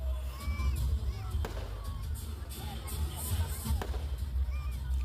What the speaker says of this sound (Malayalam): നല്ല പടക്കമൊക്കെ കത്തിച്ച് നല്ല ഭംഗിയുണ്ടായിരുന്നു കേട്ടോ കാണാൻ വേണ്ടിയിട്ട്